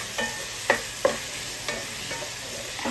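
Kerala-style chickpea curry masala with softened tomatoes being stirred in a pan: a series of light spoon clicks and scrapes at an uneven pace, close and fairly quiet, over a faint steady background hiss, with nobody talking.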